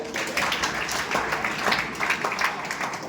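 Moderate applause from an audience at a school get-together, honoring parents: scattered, uneven clapping that swells and dips, heard at medium distance without clear speech over it.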